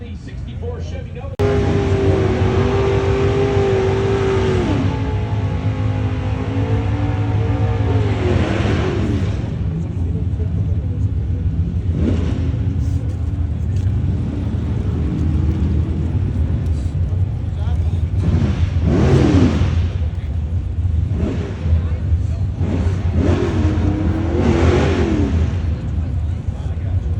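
A 1964 Chevy Nova drag car and another car rev and accelerate in repeated loud surges, the engine note climbing and falling, with an announcer talking over the noise throughout.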